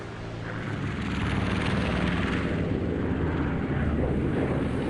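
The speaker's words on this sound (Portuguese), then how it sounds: "O grupo de bombardeio retorna à base apenas com alguns arranhões da artilharia antiaérea." A group of World War II bomber aircraft flying back to base, heard as a loud, steady, broadband engine roar that swells slightly and then holds as a dense drone with no speech.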